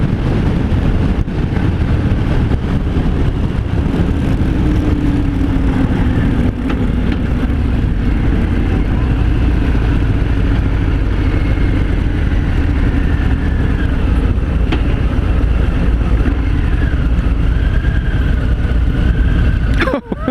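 A 2018 Harley-Davidson Fat Bob 114 cruising in fifth gear around 2100 RPM, its steady low engine drone running continuously under heavy wind rush, with a rider talking over it at times.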